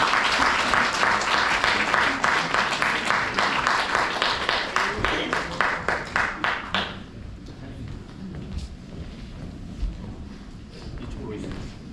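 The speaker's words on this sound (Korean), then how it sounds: "큰 박수로 모시겠습니다." Loud applause at a book-launch talk dissolves into a few rhythmic, unison claps before stopping around the middle, leaving room murmur and quiet voices.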